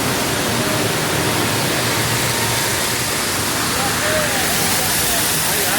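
A pistachio processing machine runs with water, making a loud, steady rush and hiss that never lets up, much like pouring water.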